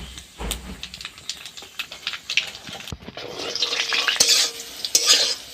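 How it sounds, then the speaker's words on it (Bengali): Bitter gourd frying in hot oil in a pan with black cumin and dried chilli, giving a steady sizzle with repeated scraping and stirring strokes close by, growing a little louder toward the end. "উচ্ছেটা একটু এরকমভাবে লাল লাল করে ভেজে নিতে হবে।"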